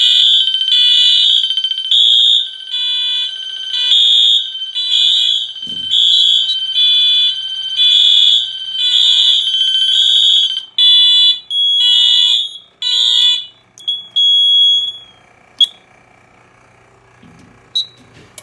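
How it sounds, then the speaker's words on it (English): An agent release system's fire alarm horn blares loud and close in a steady repeating pulse of high tones for about thirteen seconds, then cuts out, leaving a few brief beeps and quiet room noise. "This horn won't stop sounding until you reset the system"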